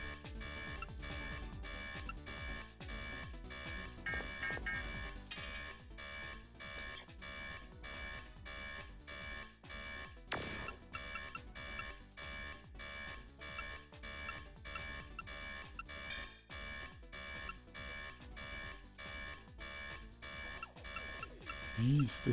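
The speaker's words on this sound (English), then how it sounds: "I don't want to listen to this alarm anymore." A rapid, regular alarm in a Dreamcast video game keeps pulsing through the whole stretch at an even rhythm, with someone talking over it throughout.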